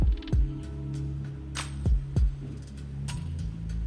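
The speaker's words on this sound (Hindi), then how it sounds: "अब इसके ऊपर हम एक सिलाई और लगाएंगे" A sewing machine stitches a seam on a tulip salwar, its motor humming steadily up close with a few sharp mechanical clicks and brief whirring surges.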